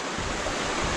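Gordale Scar waterfall gives off a brief, steady wash of rushing water, a broad hiss heard from fairly close.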